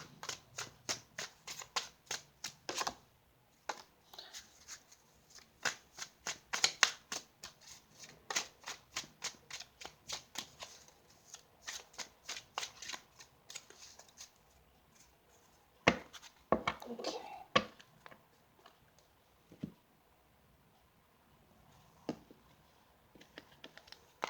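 Tarot cards shuffled by hand at close range, rapid bursts of crisp papery flicks and riffles coming in uneven runs with short pauses, quiet and alone.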